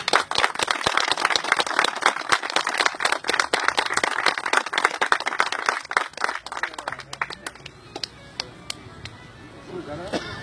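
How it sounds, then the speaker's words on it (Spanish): An audience claps at an anniversary celebration and tribute event for a railway club, a burst of loud, dense applause that thins out after about six seconds into sparse, scattered claps. "un fuerte aplauso para él"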